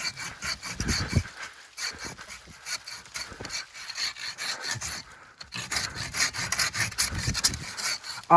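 A Silky Bigboy Outback Edition folding saw cuts through wood with close, rhythmic rasping strokes back and forth, pausing briefly between pulls.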